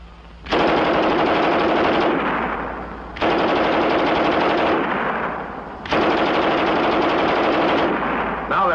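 A German MG 34 machine gun firing three long, loud bursts of rapid automatic fire, each lasting about two seconds, separated by short pauses, in old World War II film footage.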